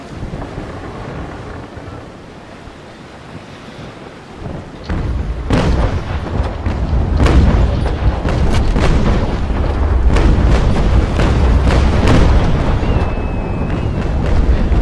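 Naval cannon fire from an allied sailing ship in a video game, heavy booming blasts rolling in over wind and water noise after a quieter opening, repeated irregular reports with sharp cracks, loud and close.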